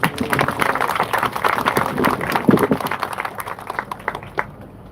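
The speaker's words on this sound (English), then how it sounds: "Let's give them a round of applause." Applause fills a city council meeting room: a crowd claps in a dense, uneven patter that thins toward the end.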